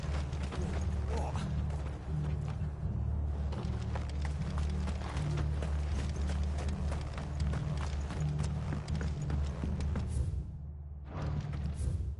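Horses' hooves clip-clop in a Final Fantasy video game, a dense run of quick, hard taps over a low, droning music bed that continues almost without pause.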